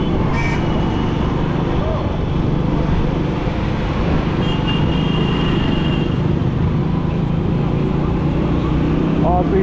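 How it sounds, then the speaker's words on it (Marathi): Vehicles crawl through a traffic jam near Prayagraj during the Kumbh Mela, a dense, continuous rumble of engines with a brief horn or two, heard close under a busy background. "आता इथं तिकडून येणारे ट्रॅफिक लई जाम झालंय"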